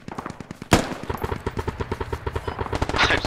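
Gunfire in the military shooter game Squad: one sharp shot, then a sustained, rhythmic automatic burst of rapid, loud, evenly spaced reports.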